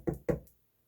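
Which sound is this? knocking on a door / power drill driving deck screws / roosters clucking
knocking on a door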